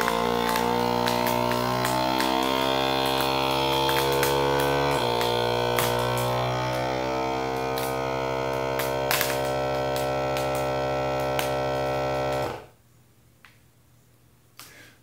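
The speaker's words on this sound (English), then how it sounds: "That noise is the vacuum sealer working, sucking the air out." A vacuum sealer sucks the air out of a bag of dehydrated meals, giving a loud, steady motor hum that runs for about twelve seconds, shifts pitch partway through, then cuts off abruptly into near silence.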